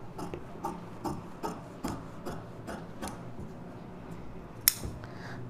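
Scissors snip through blouse fabric in a series of quiet, evenly spaced crisp cuts, about one per half second, close and alone, ending with a sharper click.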